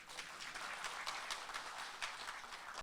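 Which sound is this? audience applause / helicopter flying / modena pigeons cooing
audience applause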